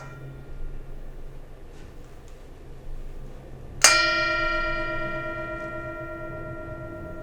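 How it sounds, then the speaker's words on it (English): A single bell is struck during a Buddhist-Christian Easter service and rings out clear and bright after a quiet pause, its tone lingering and slowly fading in the room. "Enjoy once again the sound of the bell."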